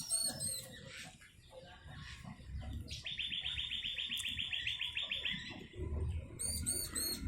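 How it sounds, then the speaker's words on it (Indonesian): Three newly hatched bar-winged prinia (ciblek) chicks in a breeding cage give faint, high chirps, including a rapid run of repeated peeps, over a soft, steady background hiss. "Peternakan saya telah menetas 3 ekor burung ciblek."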